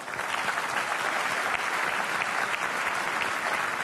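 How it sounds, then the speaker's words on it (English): An audience at the FIFA Ballon d'Or 2012 ceremony claps in steady, dense applause welcoming a guest, a loud, even wash of many hands from start to finish. "I want you all to give her a warm welcome and a warm applause"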